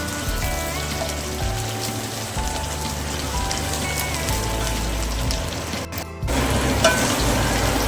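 Okra and kavala leaves with plenty of chilli and garlic sauté in hot oil, giving a dense continuous crackling sizzle close up. A short dip near the end is followed by a louder burst of frying.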